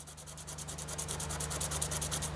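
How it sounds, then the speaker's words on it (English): A hydraulic cam lifter's ground edge is sanded by hand with 240 emery cloth, giving fast, regular back-and-forth rasping strokes, close and fairly quiet, with no voices. "let's put it on there and sand down one side"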